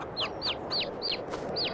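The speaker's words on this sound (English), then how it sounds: "Hear it chirping." A small chicken chick out in a snowy winter valley chirps in repeated high, short downward peeps, about five evenly spaced calls over a soft outdoor background.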